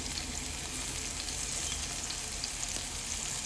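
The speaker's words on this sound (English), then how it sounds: "I'll saute this a little bit. I'll go in with my chili." Spring onions and chili sautéing in hot oil, a dense continuous sizzle and crackle, steady and close, with no talking.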